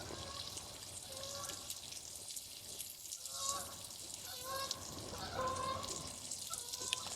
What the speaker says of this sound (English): There's a couple geese going over.